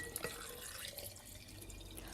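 Water trickling and dripping into a jar of pitted Medjool dates, a soft close splashing with small drips, quiet against a faint background hum.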